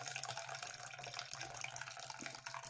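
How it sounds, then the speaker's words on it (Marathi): Water drains off cooked dal in a soft, continuous trickle, close and quiet, with no break through the short stretch. "पूर्ण आपण नितळून घ्यायचं हे पाणी."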